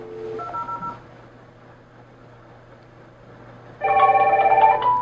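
A smart IP wall pad, the AP-VWP100 Android-style intercom, sounds an electronic call chime: a short tone pattern at first, a steady low hum, then a louder multi-tone ringing burst near the end, with no talking.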